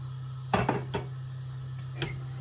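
A pan is handled on the stove in a home kitchen: a quick cluster of metallic clanks and clinks, then a single knock, over a steady low hum.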